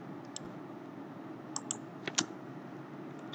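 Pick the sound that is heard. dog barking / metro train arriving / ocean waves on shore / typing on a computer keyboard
typing on a computer keyboard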